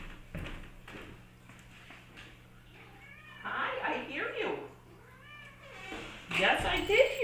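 Cats meowing at a closed basement door, several drawn-out cries clustered near the middle and end, close and loud, with a person talking quietly in between.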